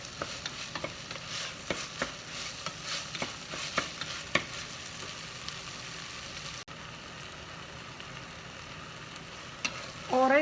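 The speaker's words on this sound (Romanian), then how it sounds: "Orezul nu îl gătim definitiv, îl înăbușim și pe el aici." Rice and onion braising in a pan for stuffed peppers, with soft crackling and repeated spoon-stirring scrapes and taps close by, steady and moderately quiet, no talking.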